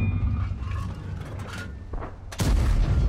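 The cannon of a WZ-120-1G tank fires in the video game World of Tanks, one loud deep boom near the end after quieter engine rumble and mechanical clanks.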